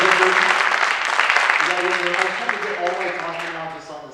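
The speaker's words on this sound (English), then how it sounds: "one more round of applause for these kids" Concert audience at a high school jazz ensemble show applauding the student players, a loud dense wash of clapping with a voice speaking over it as it slowly fades.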